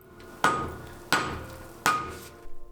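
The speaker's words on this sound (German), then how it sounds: "Ich verwende jetzt da das erste Mal einen 3 Kilo Vorschlaghammer und der funktioniert super." A 3 kg sledgehammer strikes Damascus steel on an anvil three times at even intervals while a blade is forged. Each blow rings sharp and loud, then decays slowly.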